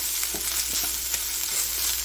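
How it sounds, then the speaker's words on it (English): Chicken sizzles in a pan with a close, continuous crackling hiss and faint pops, steady and even throughout with no voices. "And it is sizzling away."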